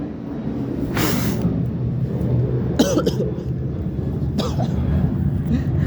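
Several sharp coughs, loud and close, spaced a few seconds apart over a low rumbling background.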